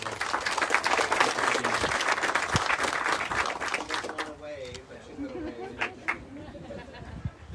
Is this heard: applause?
yes